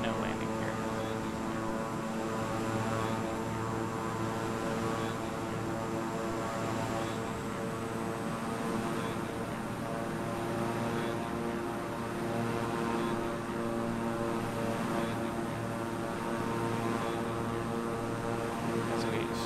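Airplane in Microsoft Flight Simulator 2020 on descent for landing near Nagasaki, Japan, a steady droning propeller engine hum that fills the whole stretch without a break.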